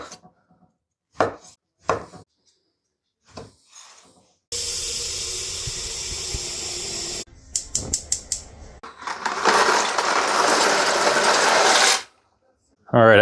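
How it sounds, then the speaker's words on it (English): Knife slicing smoked sausage into quarter-inch rounds on a cutting board for a Cajun pasta, a few sparse cuts followed by long, loud steady rasping and clatter at close range, with no talk. "We're just gonna slice it, not super thin, but you know, your average kind of 1/4 inch thick slices."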